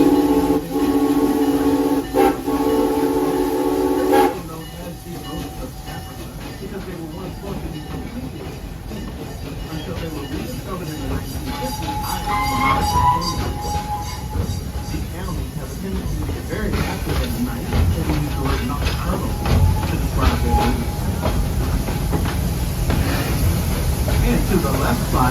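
Serengeti Express train ride at Busch Gardens Tampa rolling along its rails with a steady rumble and faint clatter, a tone sounding early on, and a narrating voice over the ride.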